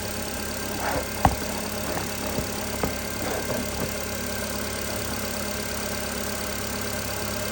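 A Nissan Sentra's 1.8 L engine runs at a steady hum with a few brief bumps and clicks early on, heard up close and without any rise in revs.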